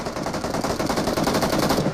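Rapid automatic gunfire in the video game PUBG during a one-on-one fight, a fast rattling burst of evenly spaced shots that runs continuously and loudly from start to finish without speech.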